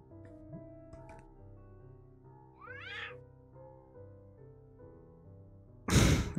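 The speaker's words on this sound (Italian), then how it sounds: "Il gatto è stupendo." A cat in the video game Children of Silentown gives a single clear, rising meow over soft background music, and a loud thump lands near the end.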